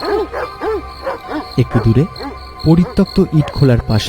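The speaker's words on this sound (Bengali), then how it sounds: "হঠাৎ অনেকগুলো কুকুরের সমবেত ডাকে ওরা" A pack of dogs barks and yelps together near an abandoned brick kiln beside a road at night, their loud, overlapping cries running under steady spoken narration.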